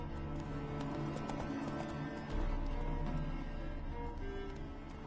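A horse gallops in The Witcher 3: Wild Hunt, its hooves making a continuous, rapid clip-clop rhythm over an ambient game soundscape.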